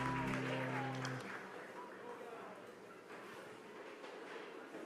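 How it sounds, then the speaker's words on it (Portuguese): Church congregation at an evening communion service applauds after a held sung or instrumental note fades, the clapping continuing faintly and evenly at a distance. "Aplauda o seu nome nesta noite."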